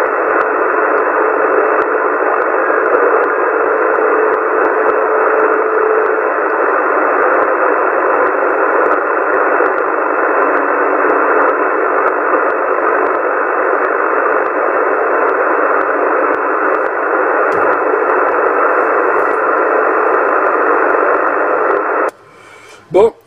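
Static from a CB radio during a French operator contact on channel 27: a steady, loud, band-limited hiss runs without a break for over twenty seconds, then cuts off abruptly near the end.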